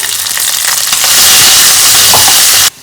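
A tempering of mustard seeds, cumin, dried chillies and onion sizzles loudly in hot oil, the crackle building and holding steady before cutting off abruptly at the end.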